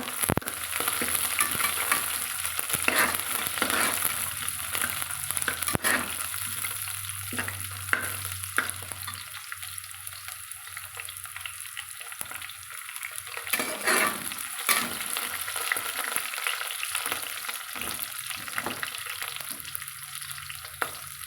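Curry leaves and chopped green chillies fry in hot oil for mutton biryani, a continuous close sizzle and bubbling crackle with occasional stirring scrapes, steady and unbroken, without talk.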